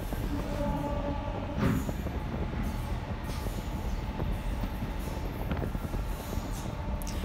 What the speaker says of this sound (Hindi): यहाँ पे ट्रेन की स्पीड काफ़ी फास्ट हो गई है।